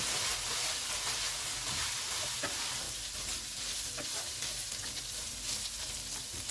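Spices frying with minced meat keema for biryani produce a dense, continuous sizzle close by, with occasional clicks and scrapes of stirring mixed in.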